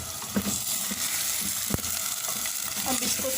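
Chicken pieces, about one kilo, fry in a clay handi for curry while a wooden spoon stirs them. A steady sizzle runs throughout, with scraping stirs and a sharp clack near the middle.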